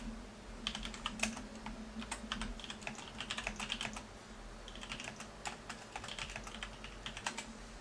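Quiet, rapid keystrokes on a computer keyboard come in uneven bursts with short pauses, clicking close up over a low steady hum and with no voices.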